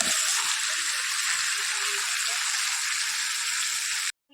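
Duck meat sizzles steadily in hot oil in a wok, a dense continuous frying hiss that stays loud and even until it stops abruptly.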